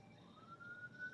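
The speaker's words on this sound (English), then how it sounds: "there's an ambulance in the background going by you right now" An ambulance siren passes faintly in the background, a thin, wavering tone rising slightly in pitch over about a second, distant under a low room hum.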